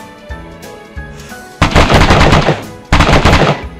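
Loud bursts of automatic gunfire in DayZ, a first volley sputtering then two sustained, sharp close-range bursts with faint earlier shots before them.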